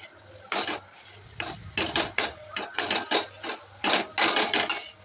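A spoon scrapes and clatters against a pan while dry coconut mixture with ghee is stirred for coconut laddoos, a dozen or so close irregular metallic strokes with quiet gaps between.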